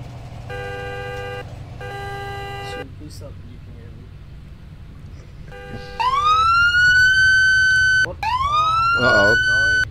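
A vehicle beeps in repeated bursts, then a loud wailing siren rises and holds twice, close by over a low engine rumble.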